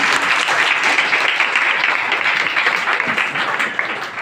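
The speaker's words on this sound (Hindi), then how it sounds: "एक बार जोरदार ताली अपने लिए।" Loud, dense applause from an audience at a seminar, sustained and even throughout before easing slightly at the end.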